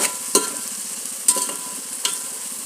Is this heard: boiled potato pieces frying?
yes